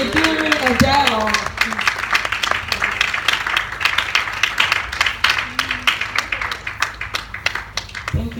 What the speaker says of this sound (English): Thank you everyone for that resounding applause